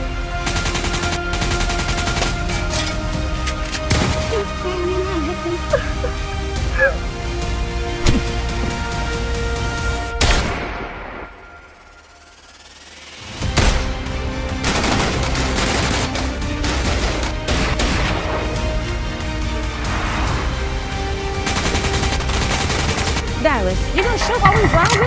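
Video game gunfire heard while driving: near-constant rapid shots and bursts of automatic fire, broken by a brief quiet gap, with voices of players talking at times underneath.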